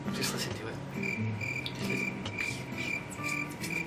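Crickets chirp in a steady pulsing trill, fairly faint, with a low hum and murmur of voices beneath.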